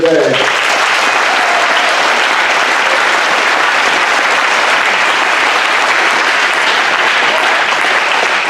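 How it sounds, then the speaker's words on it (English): Sustained, dense applause from a large crowd, steady and loud throughout with no break. "one more round of applause for all veterans here today"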